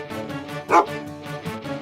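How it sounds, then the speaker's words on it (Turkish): A cartoon search and rescue dog barks in a short bright woof amid a bouncy, rhythmic music bed, the single bark standing out loud and close over the repeating beats. "o bir arama kurtarma köpeği"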